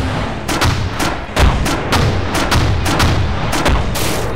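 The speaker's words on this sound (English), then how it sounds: "the artillery is right up there." Rapid rounds of artillery fire in the combat video game Arma Force, loud sharp booming blasts repeating at an uneven, fast rhythm with no talk over them.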